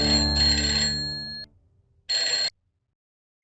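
A telephone ringtone sounds close and loud, first a long tone of about one and a half seconds, then after a short silence a briefer repeat, with a third beginning to rise at the very end.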